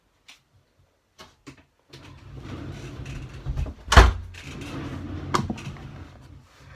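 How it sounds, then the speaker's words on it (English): An indoor door is pulled shut, with a few faint ticks and clicks and then a shuffling swing that ends in one firm, close thud of the door closing, followed by a brief muffled rattle. "I'm going to shut the door"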